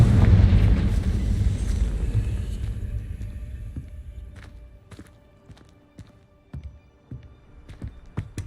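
A Confringo fire spell explodes in Hogwarts Legacy, opening with a loud booming blast that rumbles and fades over several seconds, followed by scattered faint thuds and footstep-like knocks.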